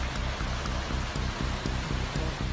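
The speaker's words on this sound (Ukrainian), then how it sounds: "Надпотужний ураган та злива обрушили сьогодні на Київ." Heavy downpour during a powerful storm in Kyiv, a dense steady roar of rain with no talk, the roads turning into rivers.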